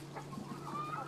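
Chickens on a free-range poultry farm cluck softly in short, irregular bursts against a steady low background hum, with no talk.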